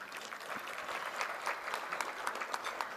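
An audience at a chamber of commerce annual meeting claps steadily, a dense patter of applause from a sizable crowd, continuous and moderately loud for the whole stretch.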